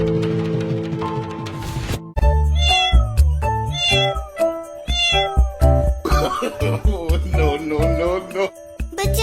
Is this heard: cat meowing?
yes